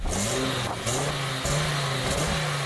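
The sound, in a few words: Audi Sport Quattro engine revving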